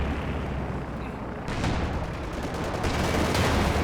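Gunfire from a battle in Company of Heroes 2 with a Panzer IV in play: dense, continuous rumbling shots and booms, loud and close, growing stronger midway with sharp bursts, no talk over it.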